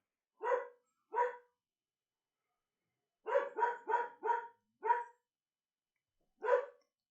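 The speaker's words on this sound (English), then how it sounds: "Sorry about the random barking because I have the front door open and she likes to bark outside" A pet dog barks sharply in short bursts, two single barks, then a rapid run of four or five, then two more after pauses, set against near silence.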